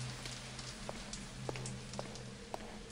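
Rain pattering on a steep rooftop in the Thief video game, a steady faint hiss with scattered drips, under a low steady hum.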